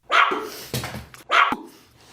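A man imitates a Pomeranian dog barking, giving two sharp, high yaps close up with a lower grunting sound between them.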